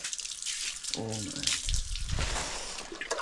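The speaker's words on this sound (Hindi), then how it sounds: "अभी वॉश करेंगे इसको इस तरीक़े से" Tap water runs and splashes while a handmade rubber sheet is washed by hand in the cold, a steady wet rush with a louder splashing burst midway; a little speech rises faintly behind it.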